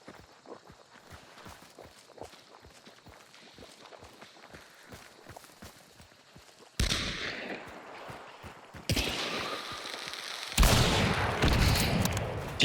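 Gunfire in the video game Hunt: Showdown on the Bayou map: a run of soft footstep-like taps, then three loud, sudden shots, each leaving a long echoing tail.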